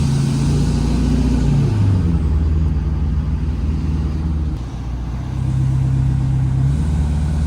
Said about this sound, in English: I'm taking the car back to the shop to get an alignment so the wheel is perfectly straight, and Allie is giving me a ride back